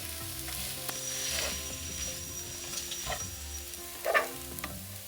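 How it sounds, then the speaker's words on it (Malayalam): Onions with turmeric and salt sautéing in a pan, a low steady sizzle with occasional stirring scrapes, quiet and close. "1/2 ടീസ്പൂൺ ഉപ്പും ചേർത്ത് നന്നായിട്ട് ഇത് വഴറ്റിയെടുക്കണം."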